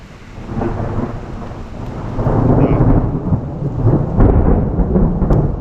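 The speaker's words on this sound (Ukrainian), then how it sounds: "гром гремить." Deep rolling thunder swells and rumbles on without a break, heavy and close, with rain hissing steadily underneath, by the Dniester River at Kolodiivka.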